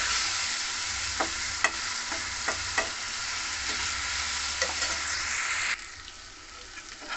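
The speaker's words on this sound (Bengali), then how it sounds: "আবার ভালো করে একটু ভালো করে কষে নেবো।" Ginger, cumin and chili sizzle steadily in a hot pan while a spatula stirs and taps at intervals, and the frying hiss drops off abruptly near the end.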